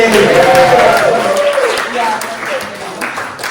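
A live audience at an evening show applauds and cheers loudly and close, a dense wash of clapping with voices rising over it, fading slightly toward the end.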